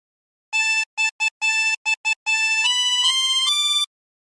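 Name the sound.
harmonica playing phrase of Drunken Sailor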